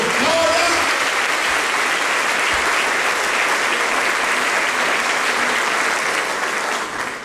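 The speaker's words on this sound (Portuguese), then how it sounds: "E os que creem aplaudam ao Senhor" A church congregation breaks into loud, sustained applause, a dense wash of clapping that fills the room and stays level before easing off at the very end.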